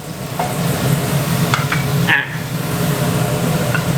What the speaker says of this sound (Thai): นี่นะครับผัดให้เริ่มเหลืองนะครับ